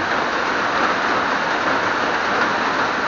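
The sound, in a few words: heavy morning rain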